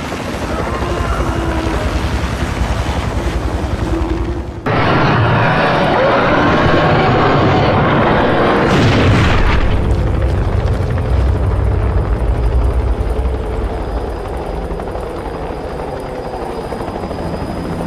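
Helicopter in a horror video game set in the Arctic, a loud steady rotor and engine roar filling the scene, swelling after a sudden shift and holding strong throughout.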